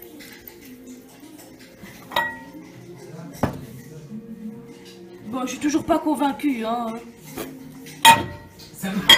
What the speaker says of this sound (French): Je sais même pas prendre la tasse du micro-ondes.